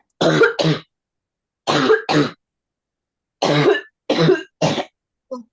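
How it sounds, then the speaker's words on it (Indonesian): Six short, sharp coughs come in quick pairs, close and loud, with silent pauses between bursts and a faint trailing sound at the end. "Sampai batuk kayak gitu"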